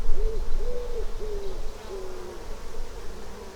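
Honey bees in an open hive drone in a steady, faint hum, with a few wavering buzzes rising and falling in pitch during the inspection. No one speaks.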